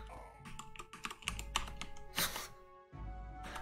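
Computer keyboard keys pressed in a rapid, uneven burst of clicks and clacks during PC gaming, close and fairly quiet, with a short pause near the end before typing resumes.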